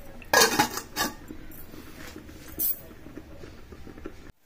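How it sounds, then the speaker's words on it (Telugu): A metal lid set onto a pot of upma, giving a couple of loud close clanks near the start followed by softer knocks and scrapes, with no talking. "ఇప్పుడు కొంచెం మూత పెట్టుకోవాలి"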